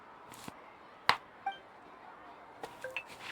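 In Genshin Impact, a drink is poured and a glass clinks: a few faint, bright glassy clinks and small pings scattered over quiet room tone, with one sharper chink standing out early.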